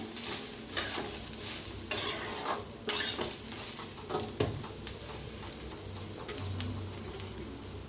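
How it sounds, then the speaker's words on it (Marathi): Okra (bhindi) dry-roasts in a pan without oil, stirred with a spatula that makes sharp scraping and clinking strokes at irregular intervals over a faint, constant sizzle. "तर भाजून घेऊया भेंडी आपण। पहिला असंच थोडंसं भाजून घेऊया"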